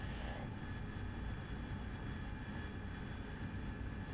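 A steady, continuous roar from the jet engine of the RAZBAM AV-8B Harrier in DCS World during a shore-based landing, a dense broadband rumble at constant loudness throughout, heard from inside the aircraft with no speech.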